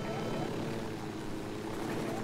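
Helicopter in the video game Ghost Recon Wildlands, a steady continuous rotor and engine drone filling the whole stretch, close and loud, with voices talking over it.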